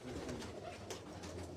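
A pigeon on a rooftop coop in Jinnah Garden, Islamabad, gives a soft, faint, repeated cooing, low and gentle against quiet background noise.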